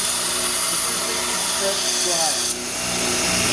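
An Ameribrade belt grinder runs a 60 grit belt against metal, a steady whining drone with rasping grinding passes that shift pitch, briefly easing off partway through.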